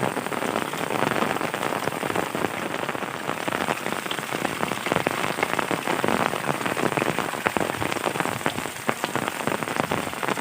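Steady rain pouring down in a rural village, a dense continuous patter of drops that stays loud and even throughout.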